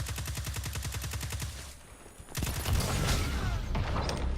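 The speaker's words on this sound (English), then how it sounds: "Is that a tractor cannon?" Tractor cannon firing in a shooter video game: a rapid string of evenly spaced loud shots, a brief lull, then a denser, heavier burst of gunfire.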